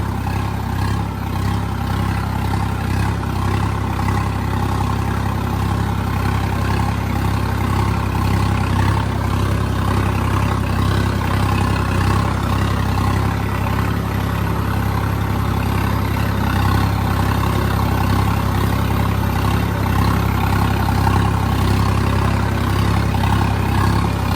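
A tractor fitted with wide radial tyres runs close by, its engine holding a loud, steady, low idling rumble for the whole stretch with no voices.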